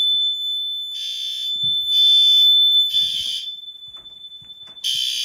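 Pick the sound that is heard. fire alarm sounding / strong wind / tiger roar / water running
fire alarm sounding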